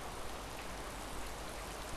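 Heavy rain pours down in the survival game DayZ, a dense, even hiss of downpour that holds steady and fairly quiet with no other sounds over it.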